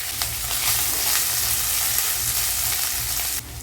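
Rice sizzles and fries in ghee in a pan, a steady, dense crackling hiss with occasional stirring clicks, heard close and alone, cutting off abruptly near the end.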